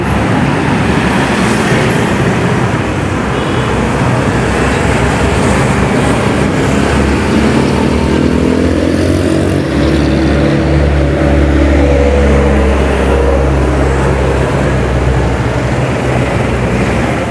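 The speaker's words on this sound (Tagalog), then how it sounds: "Maraming sasakyan." Steady roadway traffic rumbles along an uphill street in Baguio City, with many vehicles passing continuously at moderate distance and a low engine drone rising through the middle.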